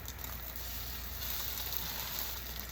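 French toast frying in a pan, a faint, steady soft sizzle throughout with no other sounds.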